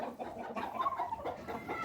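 Rooster giving a brief, quiet cluck, faint and lasting under two seconds.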